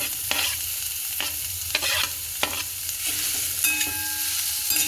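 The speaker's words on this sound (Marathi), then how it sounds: "याला छान हलवून घ्यायचं।" Boiled potatoes being stirred in a hot pan for an aloo masala idli, a spoon scraping in repeated strokes with sizzling frying underneath, close and fairly loud.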